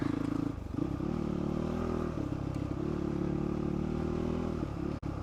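A motorcycle ridden slowly over slippery forest tracks in the Paluma Range, its engine a steady low drone throughout with slight dips in pitch and a brief dropout near the end.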